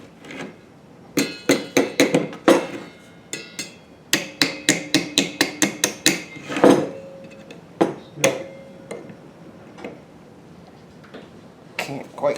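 A small hammer taps a cotter pin on a 1971 Honda CB175 frame with the rear wheel off, sharp metallic strikes in quick bursts and clusters, some ringing, with pauses between groups.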